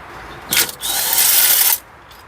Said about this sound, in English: We got our Ryobi crappy impact.